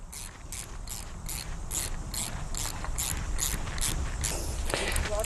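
Metal earth clamp being tightened onto a buried earth rod for an electric fence earthing setup, a steady run of about a dozen crisp ratcheting clicks at even rhythm, close by and fairly loud over faint outdoor background.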